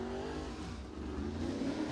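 A Rocket XR1 chassis crate race car engine drones at a dirt track, a sustained moderate roar with shifting pitch as it runs, heard somewhat distant without nearby speech.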